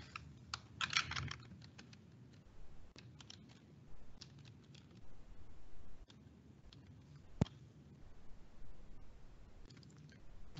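Keys clatter on a computer keyboard in an indoor setting, with steady, quiet typing made up of irregular clusters of taps and one sharper click partway through.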